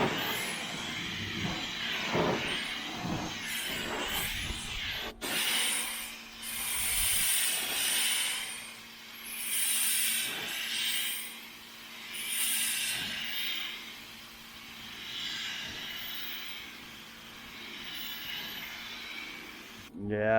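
A paint spray gun partly clogged with dried white paint gives a continuous hissing spray with rhythmic pulsing surges, sputtering in waves, close up and fairly loud, with no talking.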